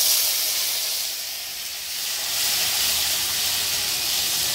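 Tomato dropped into hot oil with dried red chilli, five-spice seeds and a bay leaf, giving a loud, steady hissing sizzle that swells and eases slightly, with no talking.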